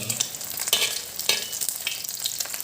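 Pork with holy basil stir-fried in a wok, a continuous sizzle broken by repeated sharp scraping strokes of the spatula, close and alone.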